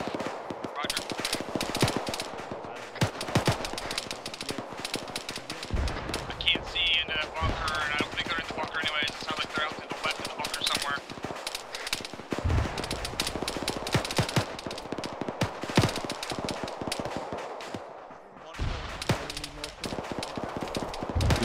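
Sustained machine-gun and rifle fire crackles through smoke in a military field training exercise, rapid dense bursts going on and on at close to mid range, with shouted voices and radio chatter mixed in.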